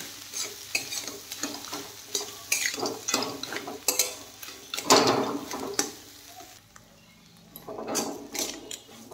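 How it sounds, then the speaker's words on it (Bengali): Potatoes stir-fried with spices in a pan for a vegetarian bread pakora filling, with steady scraping and stirring over a low sizzle and occasional clanks of the spoon against the pan, close and moderately loud. "এখন মশলার সাথে আলু ভালোভাবে কষিয়ে নেব"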